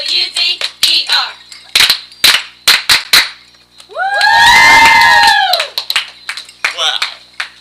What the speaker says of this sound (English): The way they cheer, come on now.